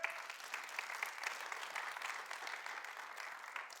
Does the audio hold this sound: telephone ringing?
no